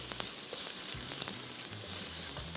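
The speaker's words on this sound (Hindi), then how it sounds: "इसको हम थोड़ा सा फ्राई कर रहे हैं" Onion and garlic fry in oil in a pan, a continuous close hiss of sizzling with a few faint scrapes and clicks, steady throughout and without speech.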